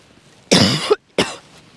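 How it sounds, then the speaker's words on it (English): Two sharp coughs from a man at the seashore while fishing for dabs in Pevensey Bay, still recovering from flu; the first cough is harsh and longer, then a short pause and a second, briefer one, close and loud. "Excuse me, coughing."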